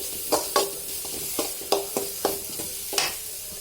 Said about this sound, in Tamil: புதினா போட்டுக்கலாம். நல்லா வதக்கணும்.